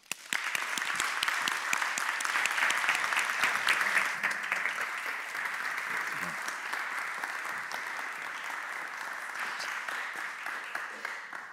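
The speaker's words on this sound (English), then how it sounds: "So, if we could please have a round of applause for Manuel Hassassin." An audience in the Cambridge Union chamber breaks into loud, continuous applause for a guest speaker, a dense wash of clapping that holds steady throughout with no pause.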